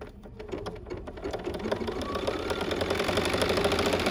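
BERNINA sewing machine fitted with CutWork Foot #44C making a final cut, a close, rapid mechanical chatter that builds steadily louder and denser throughout.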